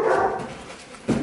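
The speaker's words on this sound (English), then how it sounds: "Hello, puppy." A small female puppy gives one short, close yip-like bark near the end, after a moment of soft background noise.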